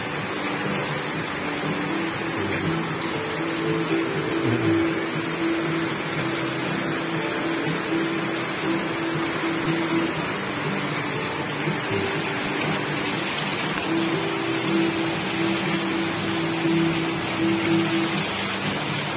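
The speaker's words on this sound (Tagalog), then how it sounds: "Yan ang problema namin dito kapag ka umuulan ng malakas." Heavy rain pours during a typhoon at a flooding rural home, a dense, constant hiss of water on surfaces lasting throughout, with a faint steady hum underneath and no talking.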